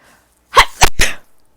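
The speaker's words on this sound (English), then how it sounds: "I gotta sneeze" A single person's sneeze, close and loud, breaking into a few sharp explosive bursts in quick succession.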